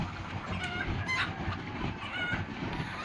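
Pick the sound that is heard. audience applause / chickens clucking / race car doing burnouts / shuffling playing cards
chickens clucking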